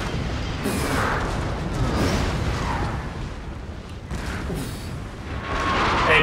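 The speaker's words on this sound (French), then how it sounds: "C'est une batterie de canon là." Cannon battery fire in a Napoleonic 1805 strategy video game, a dense rumbling wash of distant booms and volleys rolling continuously at a steady loud level, with no talk over it.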